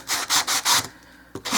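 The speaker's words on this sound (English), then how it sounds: "This is that nail buffing pad that I showed in my sanding video recently." A nail buffing pad rubs back and forth over a miniature wooden dollhouse door, taking off glue spots: four loud, even scrubbing strokes, a quiet pause, then one more stroke starting up.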